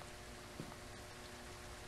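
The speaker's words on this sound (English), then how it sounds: "It's raining, so I'm not sure how good the smudge stick will do." Rain falls steadily in the ghost-hunting video game Phasmophobia, a faint, even wash of drizzle and patter with a couple of soft drip taps, heard alone for a brief moment.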